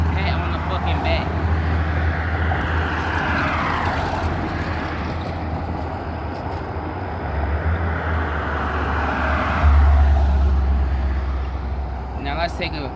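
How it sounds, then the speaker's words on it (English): Road traffic rolls past continuously, a broad low rumble and hiss with cars swelling and fading as they pass, one heavy vehicle loudest near the end, with someone talking over it. "Y'all heard all this traffic?"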